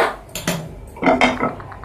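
A metal pan set down on a home kitchen stove, giving a few short clanks and scrapes of cookware close by, with brief ringing metallic knocks and no talking.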